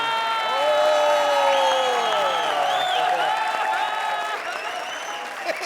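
A comedy show's studio audience bursts into loud, sustained applause mixed with cheering and whoops that holds steady for several seconds before easing slightly near the end.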